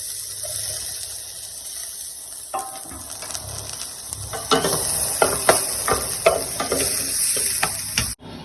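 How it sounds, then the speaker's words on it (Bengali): Chopped onion and garlic sizzle in oil in a pan, a hiss that swells into a louder, crackling fry midway, punctuated by sharp spatula scrapes and stirring knocks before stopping abruptly. "এইগুলো এবারে এই হালকা ভাজা হয়ে গেছে রসুন আর পেঁয়াজ"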